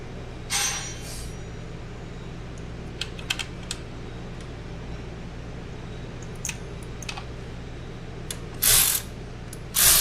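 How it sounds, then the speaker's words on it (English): Quiet, sparse clicks and short ratcheting bursts from a hand ratchet as an ignition coil is reinstalled on a Genesis G70, scattered irregularly over a low background hum. "Now let me put back our ignition coil."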